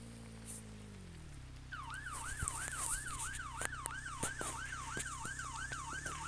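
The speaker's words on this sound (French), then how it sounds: "Mettre les sirènes, comme ça les gens ne laisseront passer." A wailing emergency siren rises and falls steadily from about the second mark onward, loud and close over low rumbling road noise, with no talking.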